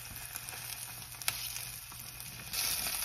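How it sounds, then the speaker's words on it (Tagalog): An egg fries in a pan for a simple breakfast sandwich, giving a steady, close hiss of sizzling oil with small pops and one sharper crackle, then growing a little louder near the end. "nagluluto tayo dito ng itlog."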